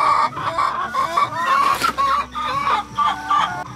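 Chickens on a small farm cluck and make throaty calls in several short bursts. The birds are close and loud, with no talk heard.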